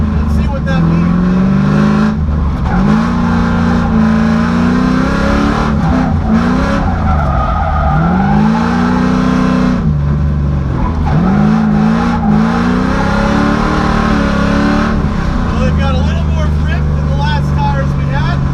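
LS-swapped BMW E46 M3 drifting on drift-ready 07R tires, its V8 revving hard in loud repeated rising surges with tire squeal, recorded up close and continuous.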